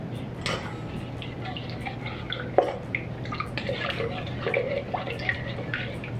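Melted butter, milk and honey being mixed for sweetrolls, with soft liquid sloshing and small clinks and taps against the bowl, steady and close with no talking.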